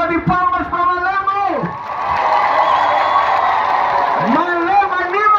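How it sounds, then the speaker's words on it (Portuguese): A crowd at an outdoor show in Malema, Mozambique breaks into loud cheering and applause, a sustained roar of voices and clapping between stretches of someone speaking energetically over it. "Uma salva de palmas para Malema!"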